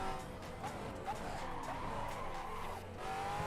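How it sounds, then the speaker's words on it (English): Tires squeal and skid continuously as a car drifts in the Assetto Corsa racing sim, the screech held for several seconds over a steady engine drone, loud and close. "Can we drift this car?"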